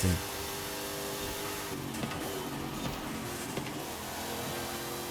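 A race car engine in Forza Horizon 5 drones continuously at high revs, loud and steady throughout with slight shifts in pitch.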